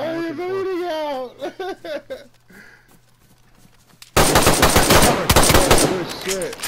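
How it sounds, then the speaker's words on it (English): Sudden loud bursts of rapid gunfire erupt mid-clip in the survival video game DayZ, dense and close, following a stretch of excited talk and quieter pauses. "I hear shooting."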